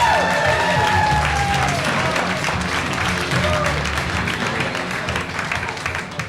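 A comedy club audience at The Ice House applauds a performer being introduced, a dense, loud wash of clapping and cheering that holds steady and fades slightly, with a host's voice calling out over it.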